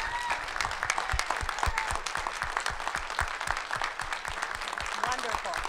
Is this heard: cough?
no